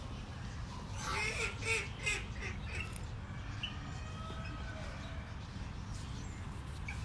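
Pekin ducks quack in a noisy cluster of overlapping calls, loudest in the first few seconds and fading to scattered quacks, heard over constant outdoor rumble.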